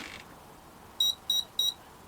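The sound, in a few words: Turnigy Plush ESC beeping three times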